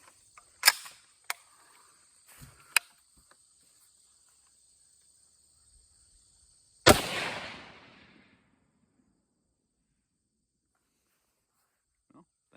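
A single sharp, loud rifle shot fired from a rifle with an offset scope bracket, followed by a decaying outdoor echo, with a steady insect drone and a few faint clicks before it.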